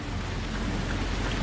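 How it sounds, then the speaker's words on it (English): Steady rain falls outside at 44 degrees, a soft, even hiss of drops spread across the whole sound, fairly faint and unchanging, with no voices. "It's 44 degrees and it's nice and rainy outside."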